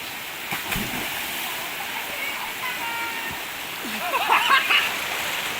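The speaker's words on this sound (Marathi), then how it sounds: "आता जो आपलं हिडन वॉटरफॉल हा आमचो आयऱ्याचो हिडन वॉटरफॉल" A hidden waterfall on a village stream in the Konkan gives a steady broadband rush of flowing, splashing water, close and continuous, with faint human sounds and a brief brighter splash near the end.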